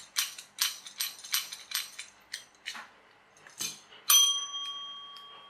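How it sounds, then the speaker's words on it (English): A small metal-domed bell on a plastic base is struck repeatedly by pressing down its metal clapper, a series of bright dings, the last ringing on with a sustained tone, close and alone. "you've got a little metal clapper in there that you push down with that"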